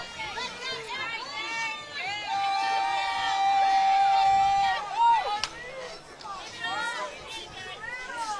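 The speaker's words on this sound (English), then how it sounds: "Very vocal crowd for all things rowing." A loud, vocal crowd at a rowing race cheers and chatters steadily, with whistles and rising voices swelling through the middle before settling into a busy hubbub.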